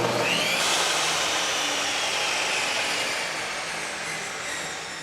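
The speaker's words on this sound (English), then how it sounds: "Let's try the 10-inch table saw." A 10-inch table saw powered by a FOSSiBOT F2400 power station spinning up with a rising whine, then settling into a steady, loud whirring hum that slowly fades as it winds down.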